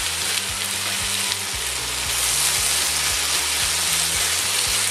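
Onions frying in a pan for a beef and onion stir-fry with black mushrooms, a loud continuous sizzle over rhythmic scraping and stirring strokes that repeat about once a second.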